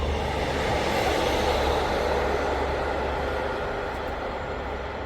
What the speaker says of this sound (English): there's about 10 trains in a row there